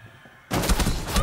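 A burst of rapid gunfire erupts suddenly in a ranked Rainbow Six Siege match, several quick loud shots in a tight cluster after a brief quiet moment.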